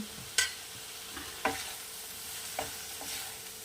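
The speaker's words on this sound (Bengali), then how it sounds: "আলুগুলো ভালো করে মশলার সাথে ভেজে নেওয়ার পর, ভালো করে কষিয়ে নেওয়ার পর" Potatoes fry with spices in a pan for Bengali fish curry, a quiet sizzle broken by four sharp spatula scrapes and clinks as they are stirred, close up with no voices.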